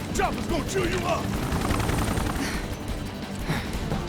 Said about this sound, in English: Chopper's gonna chew you up!